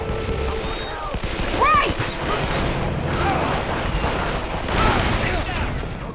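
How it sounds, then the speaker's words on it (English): A grenade explosion and gunfire in the video game Call of Juarez: The Cartel, with repeated loud booms and bursts of shots over a continuous rumble, while voices shout in the mix. "Watch out! Grenade!"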